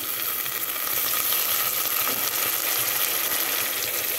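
A bunch of fenugreek leaves frying in a pan of mutton curry, a loud, dense and continuous sizzle that stays steady throughout with no voices.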